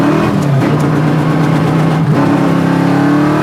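A 1967 Ford Mustang Coupe engine revving with a crisp, moderately loud exhaust note, a steady rumbling drone that dips briefly and swells again, heard up close with no talking.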